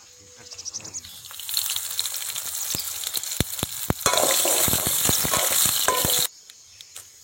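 Onions hit hot oil in a village kitchen pan for a mint and dried fish dish, bursting into loud sizzling with stirring clatter that swells mid-way and then cuts off abruptly.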